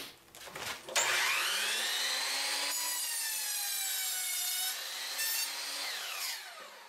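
A power saw cutting wood parts for mini beehive frames, the blade whining up as it bites in and holding a steady high screech through the cut, loud and close with no talking.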